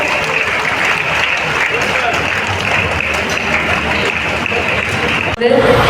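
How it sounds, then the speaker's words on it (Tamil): An audience at a televised college prize event bursts into sustained, loud, dense applause, a steady wash of many clapping hands that continues throughout before a short shift near the end. "எல்லாரும் சேர்ந்து கைத்தட்டி இதை நம்ம எல்லாரும் சேர்ந்து செலிப்ரேட் பண்ண"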